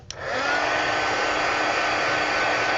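A hair dryer blows steadily on a mixed media planner insert, starting abruptly and holding a loud, even whoosh throughout with no talking.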